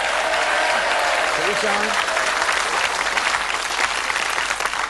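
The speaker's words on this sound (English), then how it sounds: "A round of applause, he's won one." Steady studio audience applause on a British TV darts game show fills the whole stretch at close, even loudness, with a host speaking briefly over it.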